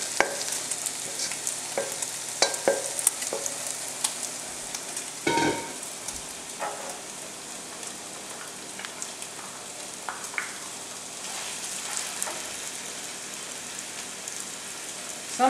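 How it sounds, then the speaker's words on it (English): Bacon, onions, sausage and garlic frying in a pan, giving a dense crackling sizzle throughout with scattered pops and sharp scraping stirs, one louder clatter near the middle; no voices. "I'm going to go ahead and add the sausage and the garlic and get that cooked up as well"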